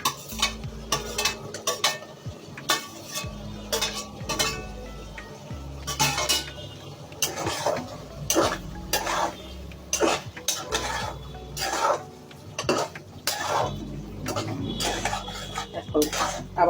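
Eggplant goes into a pot of braised beef skin curry and is stirred, producing repeated metallic clinks and scrapes of a spoon against the pot in an uneven rhythm, loud and close.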